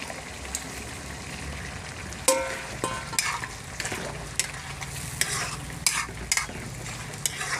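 Pre-fried potatoes are stirred into pork frying in a pan, a constant sizzle broken by repeated scraping and clattering strokes of the spatula, close and prominent, with no voices.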